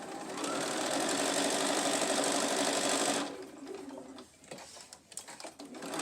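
A sewing machine runs steadily for about three seconds while stitching a plastic pocket, a dense close mechanical whir, then stops and leaves faint handling clicks and rustles.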